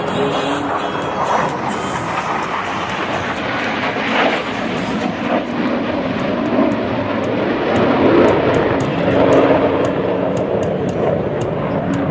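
Thunderbirds jets fly in formation at the 2013 Tico Warbird Airshow, a loud, continuous roar of jet engines that swells slightly as they pass, heard close and with no voices over it.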